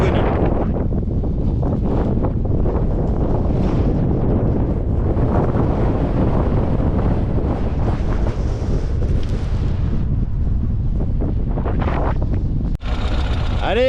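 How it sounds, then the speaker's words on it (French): Strong Patagonian wind buffets the microphone nonstop, a loud, dense roar that rumbles on without a break for the whole stretch. "on y est, dans le vent de la Patagonie"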